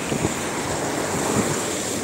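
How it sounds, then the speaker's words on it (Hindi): Strong wind with rain on a cold day in Manchester, UK, roaring as a steady, loud broadband rush with gusty low buffeting against the microphone throughout. "बारिश है, सर्दी है, हवा चल रही है बहुत तेज, और मौसम बस सर्दी सर्दी है।"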